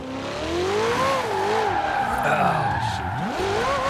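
Ferrari in Forza Horizon 4, driven with a steering wheel and traction control off, revving hard with long wavering tire squeals as it skids through a slide, loud and continuous, with a brief spoken exclamation over it.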